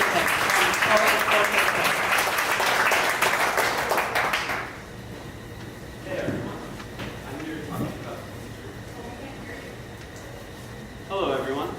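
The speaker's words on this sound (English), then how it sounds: "Stand up and give him a round of applause" An audience at a 1 Million Cups Dallas event applauds loudly to welcome a speaker on stage, dense clapping for about four seconds that then cuts off, followed by someone talking with a few scattered sounds.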